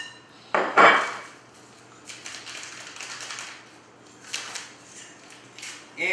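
Pizza dough ingredients being stirred together in a bowl, with a loud clatter of a utensil scraping and knocking against the bowl near the start, then softer scraping bursts continuing on and off.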